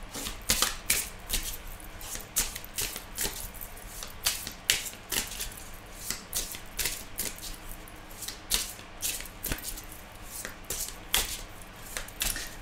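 Tarot cards being shuffled by hand at close range: quiet, rhythmic riffling bursts repeat about every second for the whole stretch, with no voices.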